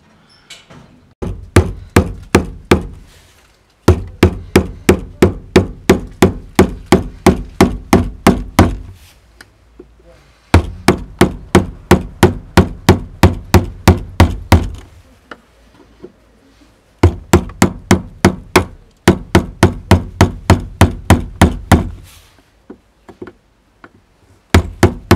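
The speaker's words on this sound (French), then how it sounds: "On va venir taper dessus avec un marteau." Hammer tapping a flat screwdriver to turn the fuel pump locking ring on a BMW E36 320i, sharp close metallic knocks in fast regular bursts of about a dozen strikes, separated by short pauses.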